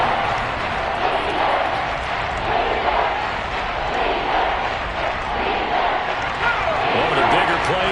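Crowd roar from an American football video game builds ahead of a big third down, a dense, steady wash of cheering and noise filling the whole stretch without pause.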